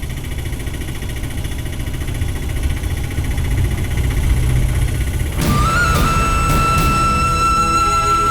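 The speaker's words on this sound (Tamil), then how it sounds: "வண்டி கொஞ்சம் நிறுத்துங்க" A car engine runs as the vehicle is driven, a steady low hum and rumble throughout. A bright tonal ringing and layered music-like tones enter partway through and continue over the engine.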